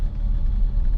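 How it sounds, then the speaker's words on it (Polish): Nissan Patrol with an M57 diesel engine and 8HP70 automatic gearbox, rolling in neutral on a dynamometer, gives a loud, steady low rumble that stays continuous and close. "Samochód cały czas się porusza i wtedy jak hamujemy samochód, możemy zmierzyć jego moc na hamowni."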